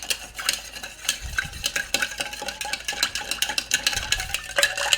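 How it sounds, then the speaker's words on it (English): A cocktail is stirred with ice behind a bar, rapid continuous clinking and rattling of ice cubes against glass and a bar spoon, close and steady with no voices. "I'm going to grab some ice and throw it on in, and we will stir this on up"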